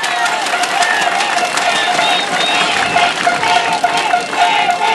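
A crowd at a Casa Grande workers' 48-hour strike rally in Ascope province breaks into steady, dense applause, sustained and loud for several seconds with mixed cheering.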